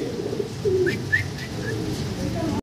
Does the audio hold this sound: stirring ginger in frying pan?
no